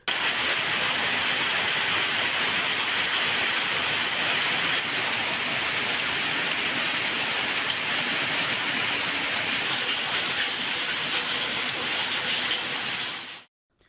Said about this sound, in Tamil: திருப்போரூர், காளவாக்கம், ஆலத்தூர் சுற்றுவட்டார பகுதிகளில் பரவலாக 1 மணி நேரத்திற்கு மேலாக கனமழை பெய்தது.